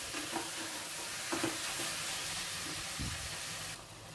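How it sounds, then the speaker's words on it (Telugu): Marinated chicken pieces fry in a pan for biryani: a steady, dense sizzle with a few soft scrapes of stirring, close and continuous, fading slightly at the end, with no voices. "ఇప్పుడు ఇదంతా ఒకసారి కలుపుకొని ఒక 5-6 నిమిషాలు ఈ చికెన్ని బాగా ఫ్రై చేయాలి"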